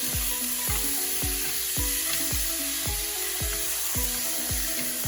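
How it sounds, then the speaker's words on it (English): Pork tenderloin sizzles steadily in hot oil while bamboo stir sticks knock and scrape against the pan in a loose repeating rhythm, close and clear, no voices over it. "now just take your bamboo stir sticks and stir it up"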